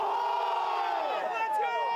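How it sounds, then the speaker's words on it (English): A crowd of fans and supporters lines a jetty shoreline, cheering and whooping for a San Diego lifeguard ocean relay, with loud, continuous overlapping voices and shouts close by. "fans and supporters and lifeguards line the shoreline here at the jetty, cheering them on"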